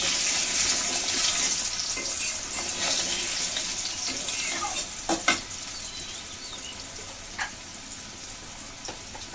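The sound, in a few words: potatoes frying in a pan for banana flower curry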